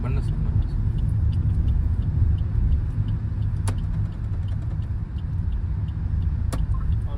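A car cruises along a road at night, its steady low engine and road rumble continuous and close from inside the cabin, with a couple of sharp clicks.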